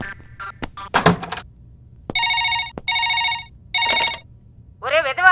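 A landline telephone rings in repeated bursts indoors, loud and close, with brief thuds and a voice speaking before and after.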